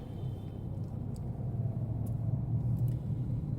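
A car in third gear drives along a single-lane road, its engine a steady low rumble heard from inside the cabin, with a few faint clicks over the top.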